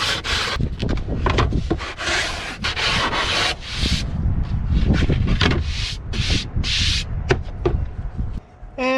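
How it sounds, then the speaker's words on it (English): Hand sanding scuffs up a wooden surface before varnishing, a close run of brisk, uneven rasping strokes with short pauses between them and no talk. "Let's give it a little scuff up."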